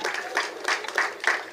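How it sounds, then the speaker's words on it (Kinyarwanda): Applause from an audience at a district awards ceremony in Kirehe honouring development partners, with clapping rising in several bursts across a short stretch, moderately loud and steady without any voices. "Amashyi menshi rero kuri Mushikiri Farmers."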